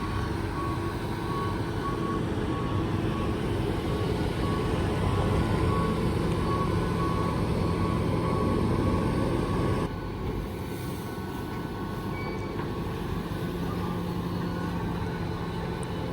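A big Fendt tractor drones steadily and loudly at close range in a maize field, a constant engine roar that drops slightly in level partway through.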